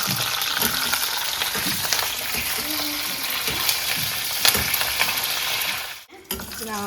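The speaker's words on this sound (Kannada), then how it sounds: "ಗೋಡಂಬಿ ಒಂಚೂರು ಬ್ರೌನ್ ಆಗ್ತಾ ಇದೆ" Cashews with curry leaves fry in hot oil for a Mangalore-style dish, a loud, continuous crackling sizzle with occasional stirring scrapes, briefly cut off near the end.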